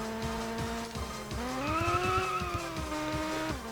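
Tires squeal as a car drifts on the handbrake in the Nintendo Wii racing game GT Pro Series, a sustained rising and falling screech over a steady engine drone, loud and close, with no talking.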